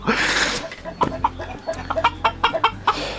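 Chickens cluck in a quick series of short, sharp calls nearby in a coop, after an opening burst of noisy rustling.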